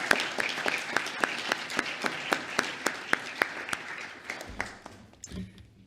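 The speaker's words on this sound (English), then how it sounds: "if you can give her another round of applause for her bravery" A round of applause at a livestreamed spiritual gathering, welcoming a brand-new member, builds as steady overlapping claps with sharp individual hand strikes, then thins out and fades near the end.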